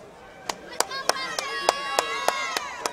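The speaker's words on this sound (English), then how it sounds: "As Council Griffin applauds the cheerleaders there" Sharp, evenly spaced claps at a high school football game, about nine crisp strikes in a steady rhythm, close and distinct over a quiet background.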